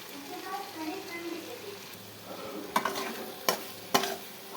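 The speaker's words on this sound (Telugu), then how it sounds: "ఇది బాగా ఇలా కలుపుకోవాలి." Capsicum curry sizzles steadily in a frying pan while a spoon stirs it, with a few sharp scrapes and knocks against the pan near the end; a voice talks over the first part.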